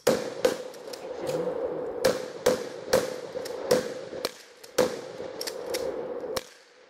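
Sharp, crisp semi-automatic gunshots from a video game, a dozen or so single reports spaced irregularly over a low background hum, fairly close and moderately loud.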